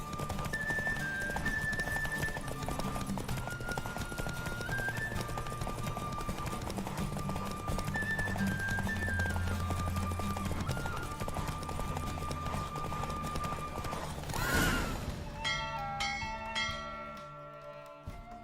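In The Witcher 3: Wild Hunt – Blood and Wine, rhythmic hoofbeats of a galloping horse clatter steadily under music, then fade as a bell-like chime rings out near the end.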